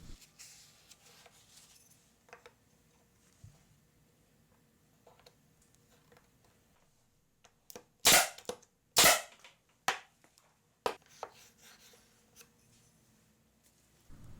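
Brad nailer firing nails into a wooden mallet being glued up: a few sharp, loud pneumatic snaps close together midway, then lighter clicks, over a quiet workshop background with no talking.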